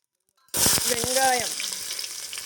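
Ingredients dropped into hot oil for a goat intestine curry, a sudden loud sizzle bursting in after a short silence and then settling into steady frying, with brief voices over it.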